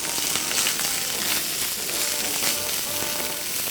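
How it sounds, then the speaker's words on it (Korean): Potato pieces stir-fry over high heat in a pan while making jajangmyeon, giving a steady, dense sizzle and crackle that stays close and fairly loud throughout with no pauses. "이렇게 살짝 볶아주세요"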